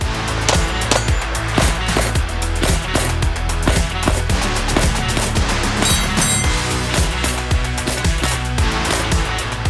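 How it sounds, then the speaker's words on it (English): Rapid, evenly spaced shots ring out from a Bear Creek Grizzly BC-101 pistol fed a full magazine of cast-bullet reloads, sharp loud cracks fired quickly one after another for the whole stretch. "this time we got a full mag of my Steel Valley casting reloads loaded up"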